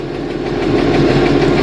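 An International Harvester 1586 tractor engine, cold-started after sitting two months, runs with a steady, loud, close diesel rumble and even knocking pulse, with no voices.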